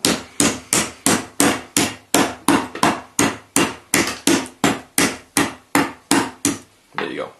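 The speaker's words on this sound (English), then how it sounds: "the rounded part of the hammer, and just tap it." Ball-peen hammer taps a small metal spinner-bait blade set in a dessert spoon, about twenty sharp, evenly spaced metallic strikes close to the mic, ending in a slightly duller final tap.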